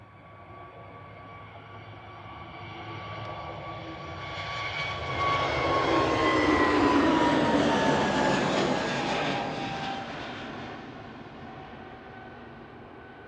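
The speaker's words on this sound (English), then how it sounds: "Next up, though, is EasyJet back to Munich with flight 2197. GUZHF is an A320neo." An EasyJet Airbus A320neo departs Manchester Airport for Munich, its jet roar building steadily to a loud peak at mid-pass with a falling whine, then easing away, with no voices.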